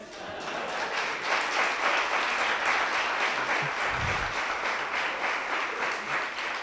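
A cabaret comedy audience applauds steadily for several seconds, a dense, even wash of many hands clapping with no voices over it.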